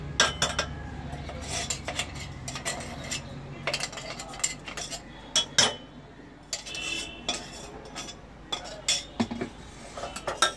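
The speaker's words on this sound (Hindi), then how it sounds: "इसे कंटिन्यूअसली चलाते रहना है। इसे डालने के साथ ही चला दे बीच बीच में।" A metal spoon scrapes and clinks against a pan while makhana kheer is stirred, producing irregular scraping strokes and sharp taps, fairly close, with quiet pauses between bursts.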